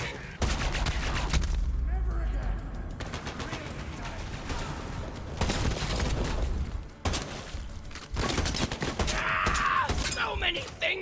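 Borderlands 3 gunfire comes in loud, dense bursts of rapid shots and heavy blasts, broken by short gaps, with chaotic game effects mixed in.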